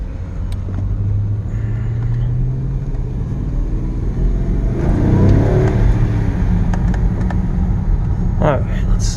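A Mercedes-Benz car with a worn-out torque converter drives along, its engine rumbling and revving in a steady loud drone close by, with a brief swell in the middle.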